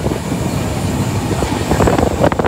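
Mandvi Express train running at speed: a steady, loud rumble of wheels and carriages with a rising clatter of rail joints toward the end, heard from inside the moving train without voices.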